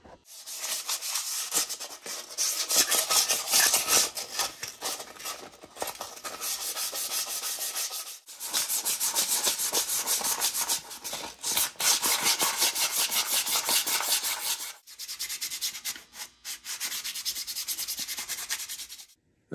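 Scrubbing of the worn rear brake pads from a 1974 Yamaha DT360A motorcycle, heard alone as steady, loud rasping bursts of rubbing in several long strokes separated by short pauses.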